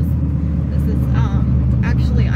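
An LS-swapped BMW E36 with a manual gearbox drives along, its V8 engine a steady, loud low rumble filling the whole stretch while voices talk faintly inside the car.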